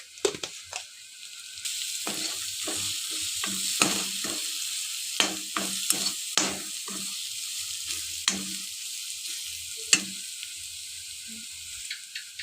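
Turmeric and coriander powder with salt get stirred in hot oil for a fish and taro curry, with repeated sharp scraping strokes of a spoon over a continuous close sizzle.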